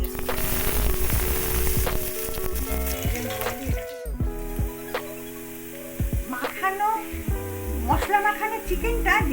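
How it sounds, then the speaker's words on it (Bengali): Chopped onions fry in oil with crushed cardamom, cloves and cinnamon for a chicken curry, a soft sizzle and stirring scrapes close by, with music playing over the cooking. "এর মধ্যে আমি কুচনো পেঁয়াজ দিয়ে দিলাম"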